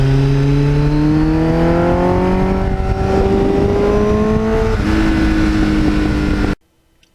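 A loud Kawasaki GPX750R Ninja motorcycle with 38,000 miles revs up close, its engine pitch climbing steadily and then holding before cutting off abruptly near the end.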